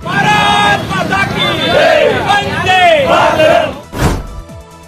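A loud crowd of Thackeray Sena supporters in Solapur cheers and chants in unison at a street celebration. The roar is sustained and close, and a sharp bang breaks in near the end.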